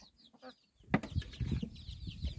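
Baby chicks near their feed give high, thin cheeps, with a few lower clucks and scuffling sounds that grow busier after a short quiet gap.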